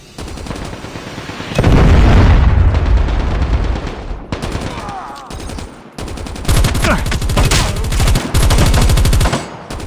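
Gunfire in Call of Duty Mobile during a Predator missile strike: loud rapid automatic bursts that start abruptly, break off briefly, then return in dense rattling volleys close by.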